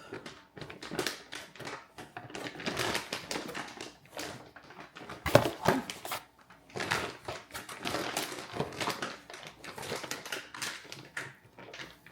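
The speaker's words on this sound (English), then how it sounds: "I'm going to zip it back up." The zipper on a Cologuard kit bag is pulled shut in a series of short, close rasping bursts with brief pauses between them.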